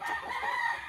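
A hen squawks and clucks agitatedly as her eggs are taken, a close, continuous, harsh run of calls lasting about a second with no talking.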